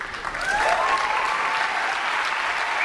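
A large audience at an Xbox reveal event applauds steadily throughout, a dense, continuous wash of clapping with faint cheering mixed in.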